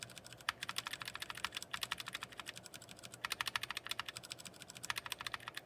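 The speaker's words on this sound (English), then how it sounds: "The Gateron optical browns are a little bit louder than his Cherry MX browns." Fast typing on a GK61 60% mechanical keyboard with Gateron optical brown switches, a dense run of quiet clacky keystrokes close by with short pauses and no talk.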